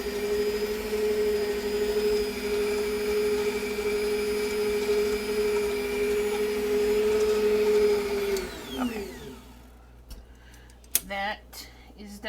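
An electric hand mixer whirs steadily as it beats a lemon-flavored hot water sponge cake batter, a loud continuous motor hum that winds down and stops near the end, followed by a few light clatters.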